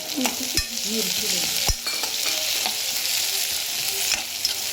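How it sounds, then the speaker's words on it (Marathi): Crushed green chili paste sizzles and fries in a pan while a spatula stirs it, giving a steady hiss broken by a few sharp scraping taps, close and loud with no talking. "हा मिरचीचा ठेचा आपण आता व्यवस्थित परतून घेऊया।"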